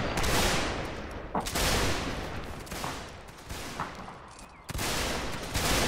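Musket volleys crackle from a line battle in the North and South video game, with repeated ragged bursts of many shots firing together, each volley loud and close, separated by brief lulls.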